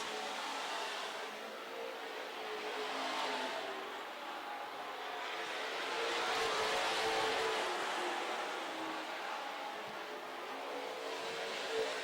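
Super stock race cars roar around the Amsoil Speedway dirt oval, a steady broadband engine drone that swells and fades as cars pass, heard from a distance.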